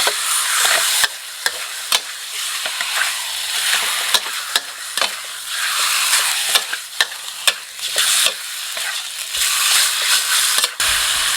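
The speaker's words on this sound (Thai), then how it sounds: "หอมดีแล้วก็จะใส่หมู ใส่กันเป็นแผ่นแบบนี้เลย" Slices of pork stir-frying in a hot pan for a Thai three-flavour pork dish, a loud, bright, steady sizzle under repeated clacks and scrapes of a spatula against the pan.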